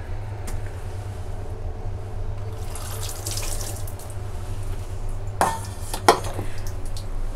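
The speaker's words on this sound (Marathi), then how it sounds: "पाणी असं सगळं निथळून काढायचं पाणी।" Water draining from freshly washed prawns in a kitchen, a faint steady trickle under a low background hum, with a couple of sharp clinks of a pot or utensil near the end and no speech.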